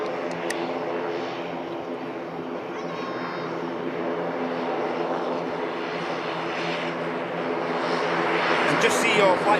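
A Turkish Airlines airliner about to enter the active runway hums as a steady engine drone with tonal whine, swelling slightly toward the end, with talk over it.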